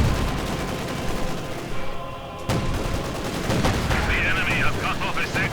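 Dense, continuous machine gun fire and explosions rattle through a Company of Heroes battle, with an MG42 and a Panzer IV in the fight, under a commentator's voice.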